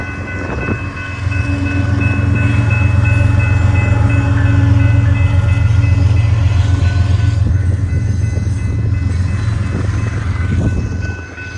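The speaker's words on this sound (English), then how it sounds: "once that CPKC ethanol train passed" A CPKC ethanol train rolls past loudly and close, a sustained heavy rumble of rail cars with a steady low drone and metallic rattling that holds for the whole stretch before easing slightly at the end.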